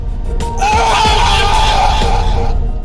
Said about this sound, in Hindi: दर्द भरी चीखें हवेली की दीवारों से टकराकर गूंजने लगी